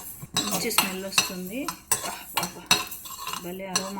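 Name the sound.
spoon stirring roasted spices in a pan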